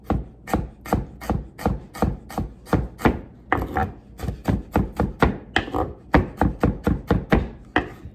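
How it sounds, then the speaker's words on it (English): A knife chops ginger on a board in quick, even strokes, about three per second, close and crisp, with no talking. "So we'll chop that up nice and fine and thin"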